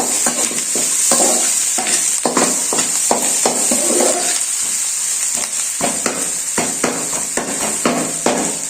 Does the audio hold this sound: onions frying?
yes